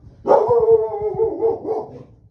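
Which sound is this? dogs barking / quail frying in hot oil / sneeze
dogs barking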